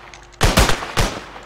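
Loud, close gunfire from guns in a modded Minecraft game: a rapid burst of several shots followed by another pair of shots, with sharp booming attacks.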